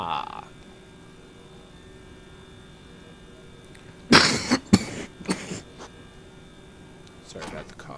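A few sharp coughs burst out in a quick cluster, close and fairly loud against a steady electrical hum, with a softer cough or throat sound near the end, during a play session of the puzzle game The Witness.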